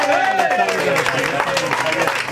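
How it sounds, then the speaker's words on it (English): Applause and cheering for a finisher at the Kilvey Hill Cement Run 2014, an outdoor hill race, with clapping running steadily under loud nearby shouting and talk throughout. "Big round of applause"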